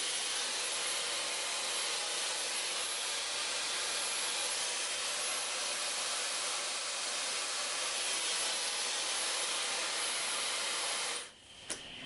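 Hair dryer fitted with a diffuser blowing onto wavy hair, a steady loud broadband whoosh that runs unbroken for about eleven seconds before cutting off abruptly.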